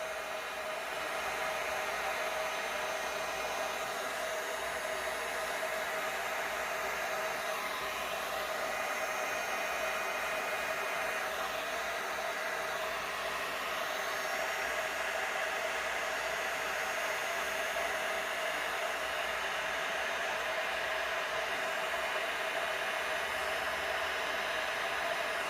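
A hair dryer blows paint across a tray in a steady, unbroken whoosh that runs close and loud for the whole stretch, with no talking over it.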